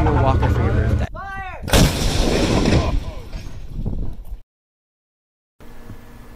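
An artillery fire sound effect: one loud, sharp boom with a booming tail, followed by a cut to near silence, with a voice talking nearby.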